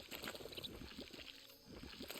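Wading through swampy water in Metal Gear Solid 3, soft sloshing and gurgling splashes come faint and close over a low ambient hum.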